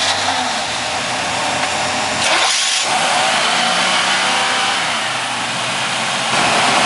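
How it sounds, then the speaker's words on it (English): Loud, steady engine noise from the twin engines of a Skipjack 28 Flybridge sport fishing boat fills the clip, with a brief surge near the middle as the motors crank, turn over and keep running. "Let's give these engines a quick crank."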